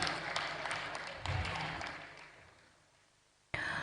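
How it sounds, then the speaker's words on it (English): An audience at a youth conference applauding the Minister of Interior, a broad patter of clapping that fades gradually to near silence before a fresh burst begins at the very end. "Please, a round of applause for him"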